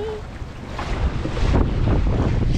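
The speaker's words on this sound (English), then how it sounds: "Flying along very nicely in we got about 7 knots of wind" Wind rushing steadily past an aluminum monohull sailboat under way near La Paz, Mexico, a broad buffeting roar that swells louder partway through, with microphone wind noise and no voices.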